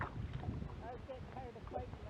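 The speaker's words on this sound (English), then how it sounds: "the wind is a bit of a bugger" Steady wind buffets the microphone on a fishing kayak out on open water, a constant loud rushing with faint sloshing beneath.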